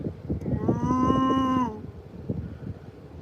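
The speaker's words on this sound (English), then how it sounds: "Cows mooing at us." A cow gives one long, drawn-out moo close by, with low outdoor rumble and a few soft knocks around it.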